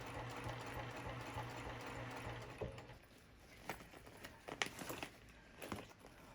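Quiet sewing machine stitching a vinyl zipper pouch, with a soft run of stitches that stops partway, then faint clicks and handling noises.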